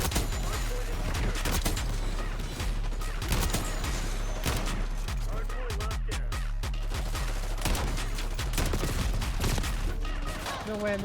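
Rapid gunfire from an Essex Model 07 rifle in the video game Black Ops 6, with sustained bursts of loud, close shots layered with heavier impacts and occasional talk.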